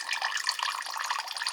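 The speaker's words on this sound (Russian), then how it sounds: "заполнение водой ведра происходит медленно очень" Water trickles slowly into a bucket from an aquarium reverse osmosis system, a steady soft hiss of flowing water with no talk.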